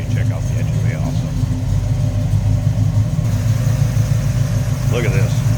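Chevrolet 350 V8 in a 1961 C10 Apache stepside pickup with an Edelbrock setup, a deep, steady low rumble at idle heard up close, with faint chirping birds in the background.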